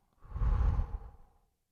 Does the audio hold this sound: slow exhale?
yes